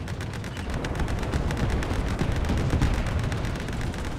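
A Sherman tank's cannon in War Thunder fires an explosive shell, heard as a dense, loud, continuous roar of blasts and rumbling battle noise with no clear pause.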